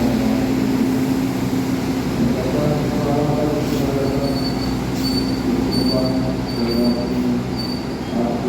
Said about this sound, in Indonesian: Kereta api Argo Dwi Pangga.